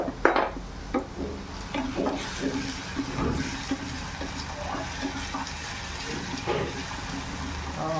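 Curry leaves hit hot oil in a pan of softened onion for a cabbage and pea dish, crackling and sizzling steadily while a spoon clinks and scrapes against the metal in irregular taps.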